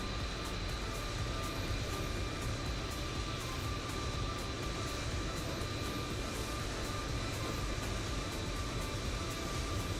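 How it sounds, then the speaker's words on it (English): Jet aircraft roar at Manchester Airport as heard from a tower view in Microsoft Flight Simulator, a steady, loud broadband rumble with a thin constant whine, continuous for the whole stretch with no talk. "Getting noisy in the tower view now, isn't it? A lot of jet noise."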